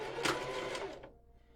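A sewing machine back stitches at the start of a seam on a water bottle holder, giving a short, quick mechanical whirr of rapid needle strokes that stops abruptly after about a second, close and fairly quiet.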